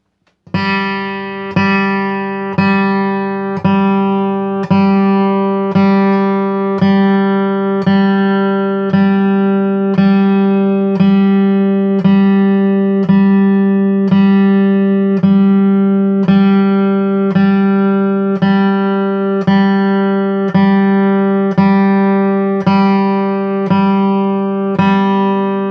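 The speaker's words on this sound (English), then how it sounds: "So I'll just pick some eighth notes, starting with the bridge, and then I'll move down towards the neck" Steady eighth notes picked one after another on an acoustic guitar, moving from the bridge toward the neck, each pluck sharp and close with the tone shifting gradually, no voices.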